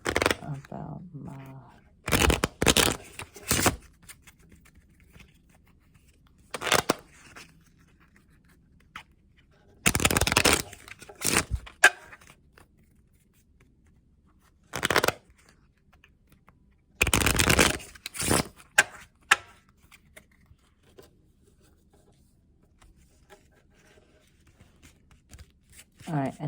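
Tarot cards being shuffled in several separate bursts of brisk riffling and sliding, close and fairly loud, with quiet gaps between them and occasional low talk in the background.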